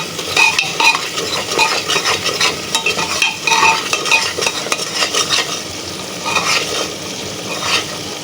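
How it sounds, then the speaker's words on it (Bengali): Ground spices with turmeric sautéing in hot oil, a steady loud sizzle broken by repeated scraping and stirring of a spoon against the pot, close up with no talking. "এটা দিয়ে কষিয়ে নিব। জিরাটা আমি পরে ইউজ করব, মশলাটাকে কষিয়ে নিব।"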